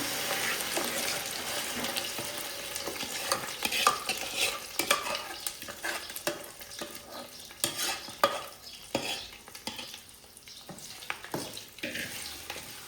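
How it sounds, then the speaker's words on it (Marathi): Onion and tomato paste sautéing in a pan while cooking a paneer and peas curry for a large group, with steady sizzling and repeated spoon scrapes and stirring clatter throughout, close and fairly loud. "पेस्ट चांगली परतून घेऊ आता"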